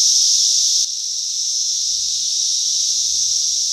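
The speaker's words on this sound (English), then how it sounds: "now these cicadas are back" A dense, steady high-pitched chorus of periodical cicadas at a beekeeping farm drones on without pause, a loud continuous buzz filling the whole stretch with no other sounds.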